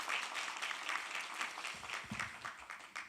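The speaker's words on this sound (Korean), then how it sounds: "여러분 큰 박수로 맞아주시기 바라겠습니다" Audience applause rises to welcome a professor, an artificial intelligence faculty member, at an education forum in Jeju; the clapping is moderately loud and steady, with a few low thumps partway through.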